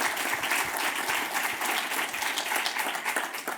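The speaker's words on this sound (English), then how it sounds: "A round of applause for our panel" A conference audience gives a round of applause for a discussion panel on EU maritime spatial planning, dense and loud, with many hands clapping continuously for the full stretch.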